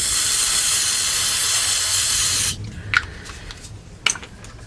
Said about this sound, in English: I'm gonna spray some of this throttle body cleaner in there.